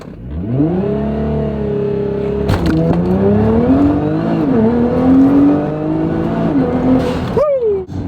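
An all-wheel-drive Nissan GT-R launches hard and pulls through the gears, its engine note climbing loud and close with sharp shift breaks and a final lift-off, no talking over it.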